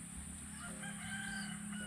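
A rooster crows over steady background hum, with a few faint clucks from nearby chickens.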